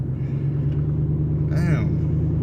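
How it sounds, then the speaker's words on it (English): A truck's exhaust rumbles steadily and close by throughout, a deep low drone, with a brief higher whine or passing sound rising about halfway through. "Don't know if y'all can hear the exhaust"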